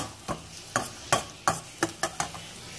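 A spoon scrapes and stirs garlic in oil in a pan in a steady rhythm of about eight strokes, over a faint background sizzle of frying.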